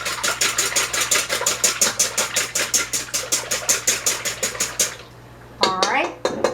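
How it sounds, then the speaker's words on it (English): Melted chocolate, butter and eggs are whisked for chocolate cherry muffins in a bowl. Quick, even whisk strokes tap and swish about four times a second, then stop, followed by a brief clatter. "now I'll give it another quick whisk"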